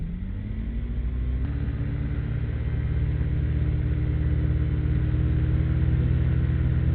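A car engine climbs in pitch and then holds a steady high rev near 5,000 RPM to warm up, a close, continuous droning rumble with no talk.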